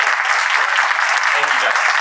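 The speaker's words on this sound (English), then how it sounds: "give them a big round of applause" An audience at a real estate investing live event applauds speakers, with steady, dense clapping from a full room at a constant level throughout.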